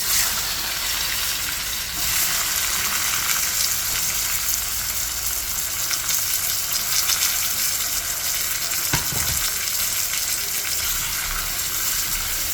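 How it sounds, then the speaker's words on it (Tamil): Ground onions fry in a pan with a strong, continuous sizzle, broken by brief stirring scrapes and one sharp clatter near the end, with no voices. "முதல்ல வெங்காயத்தை நான் சேர்க்குறேன்."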